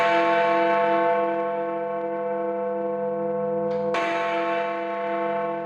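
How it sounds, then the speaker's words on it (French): Big Ben, the large clock tower bell in London, rings with a deep, resonant tone that hangs and slowly decays, then a second strike rings out just as loudly. "C'est juste au-dessus que se trouve la cloche qui donne son nom à Big Ben."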